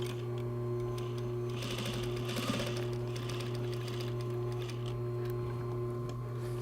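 Sewing machine stitching a seam on a bustier, a continuous close mechanical whir with a steady fast tick, fairly quiet and unbroken by talk.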